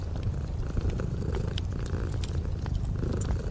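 A big cat purrs steadily and close by, a continuous low rumbling throb that runs unbroken throughout, with no other sounds over it.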